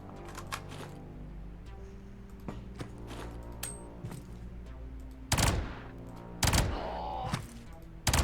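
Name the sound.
gunfire from a gun in the video game Quasimorph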